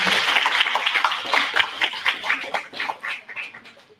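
An audience at a student video contest awards event gives a big round of applause for the competing teams, dense continuous clapping that gradually fades out over a few seconds.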